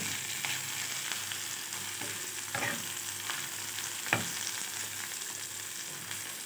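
Food sizzling and frying in butter in a pan, a steady soft crackle with a few faint stirring clinks, quiet and with no talking.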